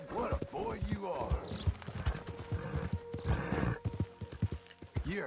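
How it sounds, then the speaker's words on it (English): Horse hooves clip-clop steadily with an occasional neigh in Red Dead Redemption 2, the horse close by, mixed with game ambience and someone talking over it. "You're quite the horse."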